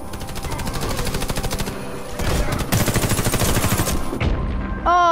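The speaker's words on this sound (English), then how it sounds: "the engineer has like a rapid fire Uzi gun, I think it is." Rapid automatic Uzi fire from the engineer class in the shooter game Warface, long bursts of fast rattling shots with brief gaps between them, loud and close throughout.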